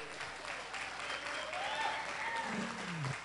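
Applause from a studio audience at a televised talent show, a steady wash of clapping with faint tonal voices or whistles drifting over it throughout.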